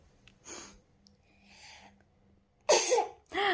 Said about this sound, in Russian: она специально делает вид, что чихает